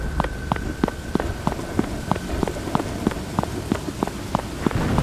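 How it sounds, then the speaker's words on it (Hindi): Steady heavy rain hisses across a deserted village road at night, with regular thudding steps squelching through mud at an even pace. "गांव की सुनसान सड़क, रात। तेज बारिश हो रही है।"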